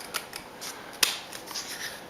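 Quiet, crisp scissor snips, several light cuts and one sharper clip near the middle, trimming the edge of a mirror board card covering.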